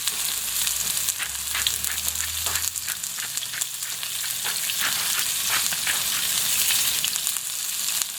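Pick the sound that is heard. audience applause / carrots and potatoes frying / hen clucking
carrots and potatoes frying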